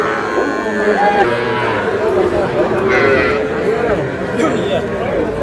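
Crowded livestock market din with many people talking and cattle and small calves lowing now and then in the background, a busy, loud open-air scene at Ambari market in Dinajpur.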